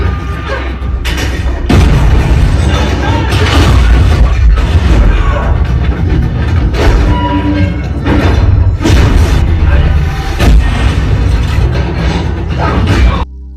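A grenade explodes during a loud action fight scene in the John Wick spinoff Ballerina, the booms and thuds coming amid a continuous heavy mix of impacts.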